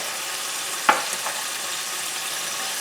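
Garlic is added to lamb sautéing in a pan, a steady sizzle marked by one brief clack or drop near the start, then an even hiss that continues alone.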